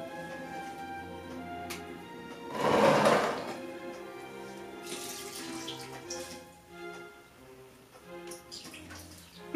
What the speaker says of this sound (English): I'm just wringing out some of the stuff, the water.